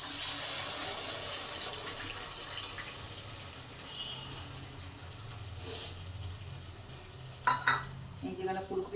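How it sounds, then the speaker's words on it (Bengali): Potatoes sizzle in a pan in a home kitchen, with scraping stirs over a steady frying hiss and a few louder clatters toward the end. "এখন আলু ভাজা ভাজা হয়ে এসেছে। এবার মশলা দেবো।"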